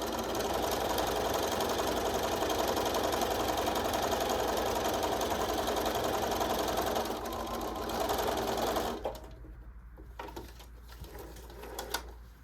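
A sewing machine top stitching an exposed zipper runs steadily with a fast, even mechanical chatter for about nine seconds, then stops, leaving a few faint clicks and handling noises.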